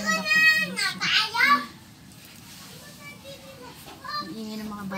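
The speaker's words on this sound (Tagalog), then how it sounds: "Ang ingay ng mga bata sa labas." Children play noisily outdoors, their shrill, overlapping voices loud at first, then fading to a steady background murmur before rising again near the end.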